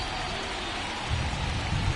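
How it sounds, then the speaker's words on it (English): Steady rain falls during a televised baseball game between the Yankees and the Tigers, a dense continuous hiss with heavier low patter in the second half and no voices. "This rain is not letting up."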